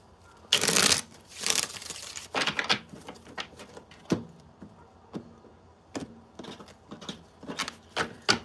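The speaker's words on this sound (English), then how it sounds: "I'm going to shuffle one more time" Tarot cards are shuffled by hand at close range, giving a loud riffling burst at the start, then a series of softer irregular taps and slaps as the deck is handled and cut.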